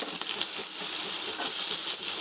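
Chopped onions go into hot oil in a pan as paruppu urundai kuzhambu, a South Indian lentil-ball curry, is cooked, giving a steady, bright, hissing sizzle heard close up and alone.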